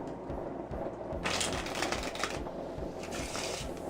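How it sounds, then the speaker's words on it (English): A deck of playing cards is riffle shuffled in mid-air, a quick run of dense rippling card flutters, close and crisp, followed by a second shorter riffle, with no one speaking. "today I'm going to show you how to do a Riffle Shuffle in mid-air"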